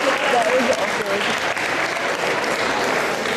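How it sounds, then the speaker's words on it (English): An audience at a 2008 community event in Elliot Lake, Ontario breaks into sustained, dense clapping that stays loud and even for several seconds. "give her a big round of applause"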